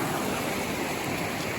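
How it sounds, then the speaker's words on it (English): Water rushes and splashes at a river crossing on a mountain hiking route, a dense, steady broadband wash heard close and loud throughout. "Our first river crossing."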